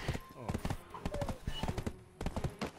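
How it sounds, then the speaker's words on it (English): Hoofbeats of a horse galloping in the online game Scrub Desert come in rapid, rhythmic clip-clop bursts, mid-distance and steady, with a voice speaking over them. "I'm galloping a horse."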